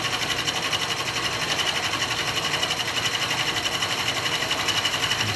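A manually fed end mill cuts a metal bar on a milling machine, giving a steady, dense machining whir with a fine rhythmic chatter that holds at constant loudness with no talking.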